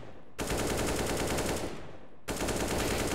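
Rapid automatic gunfire in Counter-Strike: Global Offensive, two loud sustained bursts of dense, evenly spaced shots separated by a brief pause, close and without voices.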